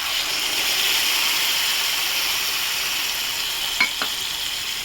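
Mustard paste water poured into a hot frying pan on high gas, a steady loud sizzle and hiss continuing throughout, with two brief clinks near the end and no voices.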